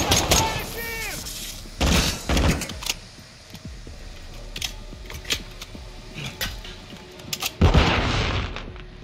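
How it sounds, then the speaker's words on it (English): Call of Duty Modern Warfare II combat, with sharp flashbang bangs and bursts of gunfire hitting as loud, separate blasts among quieter in-game sounds, and a voice talks briefly at the start. "Using those flashbangs."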